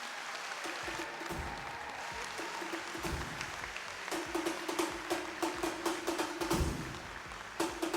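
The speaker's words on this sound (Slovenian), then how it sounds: "Nagradimo jih z velikim aplavzom." Applause from a crowd at a secondary health and cosmetics school graduation ball in Maribor, a steady wash of clapping that swells and grows more scattered and punchy toward the end.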